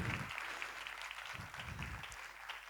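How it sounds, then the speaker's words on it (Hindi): Congregation clapping to welcome newcomers at a Hindi Christmas church service, a short patter of applause in the hall with soft rhythmic swells. "एक बार उनके लिए तालियों से हम स्वागत कर सकते हैं।"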